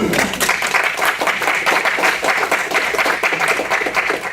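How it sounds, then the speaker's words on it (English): Dense, steady applause from an audience at a campus evening lecture event, a continuous wash of many hands clapping at even loudness throughout. "How about a little round of applause?"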